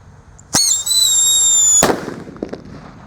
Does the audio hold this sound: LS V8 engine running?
no